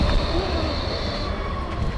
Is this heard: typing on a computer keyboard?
no